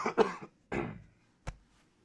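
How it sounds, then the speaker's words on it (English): Three short bursts of coughing close by, separated by brief pauses, the last one sharp and quick. "try to get rid of this cough."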